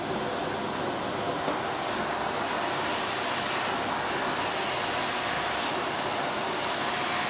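A vacuum cleaner runs continuously with a steady, loud whine and hiss, unchanging throughout with no voices.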